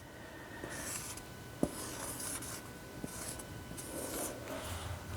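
A marker writes a word on a classroom board with faint, squeaky strokes in several short bursts and a small tap or two between them, in a quiet room.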